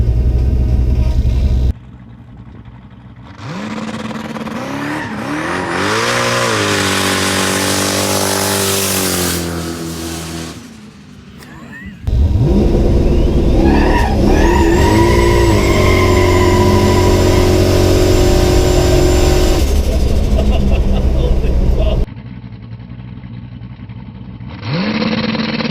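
A 1000hp turbocharged Trans Am launches on a street, its engine roaring loud and close with a rising, revving note, dropping away, then surging again into a long sustained high-revving pull before cutting back.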